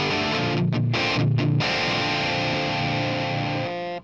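An Evil Sound Lab Malefica guitar distortion pedal with its tone switch on the scooped setting, thick saturated electric guitar chugging riffs with a few short gaps, then a sustained ringing chord that cuts off, loud and close.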